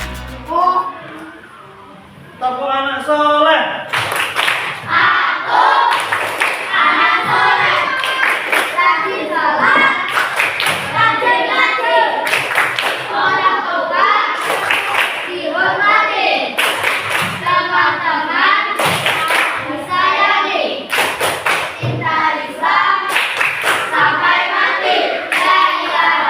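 Children clap along to the Indonesian Tepuk Anak Soleh chant in a classroom, with rhythmic bursts of claps interleaved with sung and spoken voices throughout.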